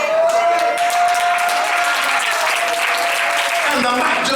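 A sustained wash of audience applause and hand claps fills the whole stretch, dense and steady, with a thin held tone running beneath it and brief voices mixed in.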